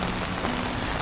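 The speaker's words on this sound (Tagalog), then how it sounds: "Lakas na ulan." Steady, dense rain noise fills the whole second, a continuous broadband hiss of heavy rainfall in Ilocos with no breaks.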